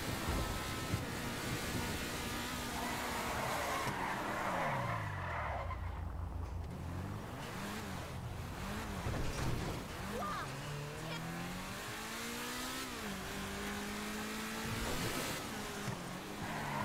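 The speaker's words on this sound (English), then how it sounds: "Listen to this car." A revving car engine in the video game GTA V Online rises and falls in pitch repeatedly, shifting through gears, with some tire noise and a voice talking over it.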